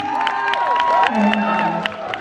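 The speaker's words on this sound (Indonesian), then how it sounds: "Tepuk tangan untuk kedua paslon kita." A school debate audience for a student council chair election applauds and cheers, with whoops and shouting voices over steady crowd noise, close and lively throughout.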